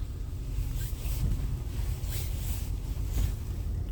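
Steady broadband rain hiss with a low rumble in Dnipro, Ukraine, continuous and fairly loud throughout, no voices.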